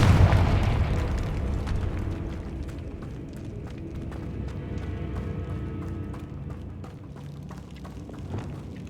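A Confringo fire spell in the video game Hogwarts Legacy bursts with a heavy, loud boom at the start, then crackling, popping rumble continues with scattered sharp hits.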